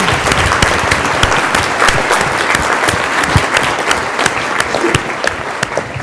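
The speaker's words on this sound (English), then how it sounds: "Big round of applause for all the BP winners." A crowd at an award ceremony gives the winners a big round of applause, loud, dense clapping that stays steady and sustained without a break.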